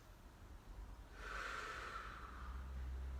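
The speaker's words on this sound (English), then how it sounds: "Last few breaths here." A single long, airy breath drawn in and let out slowly in a calm yoga flow, soft and close with a faint room hum underneath.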